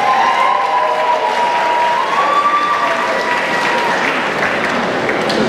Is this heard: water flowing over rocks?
no